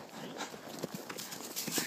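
A horse's hooves clip-clop irregularly on a hillside as it walks, with a few distinct, fairly close and soft hoof strikes over faint outdoor background.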